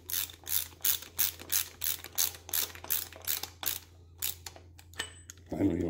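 A ratchet with a socket tightens thin-bodied bolts on a 305 engine, a rapid series of about a dozen sharp, close clicking strokes, slowing into scattered clicks, with a brief voice near the end.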